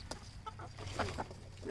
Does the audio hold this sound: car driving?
no